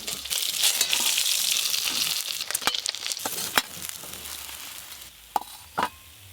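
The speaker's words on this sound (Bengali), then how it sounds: "এই মাছগুলো সব ভালো করে ভাজা হয়ে গেছে," Pieces of chital fish frying in oil give a soft, steady sizzle that fades partway through, followed by a few sharp clinks and scrapes of utensils against the pan.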